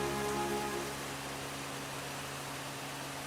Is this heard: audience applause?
no